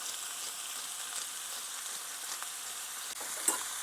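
Seasoned food sizzles steadily in a hot pan, a soft continuous crackle with faint stirring near the end and no talking.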